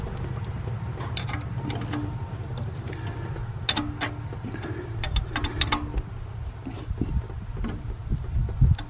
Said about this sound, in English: So now we're going to pump it again to make sure there's fluid coming out of it.